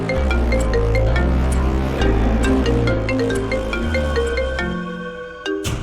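A mobile phone ringtone plays loudly in a Hindi TV drama scene, a sustained electronic melody of repeating tones that fills the whole stretch before fading near the end.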